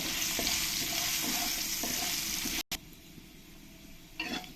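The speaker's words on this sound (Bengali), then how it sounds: "আলুগুলো লাল লাল করে ভালো করে আমি ভেজে নেব" Potatoes seasoned with salt and turmeric frying in a pan make a loud, continuous sizzle with a soft rhythmic stirring knock, then a brief cut to quieter sizzling with a scrape near the end.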